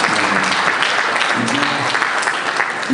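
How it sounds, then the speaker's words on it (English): Applause from the audience at a real estate and infrastructure conference after a panel discussion, loud and dense clapping from a crowd, with faint voices mixed in. "Can we give a round of applause to Dr."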